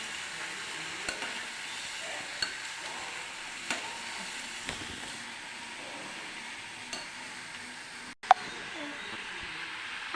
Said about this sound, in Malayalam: ഇനി നമ്മളതൊന്ന് ഇളക്കി കൊടുക്കണം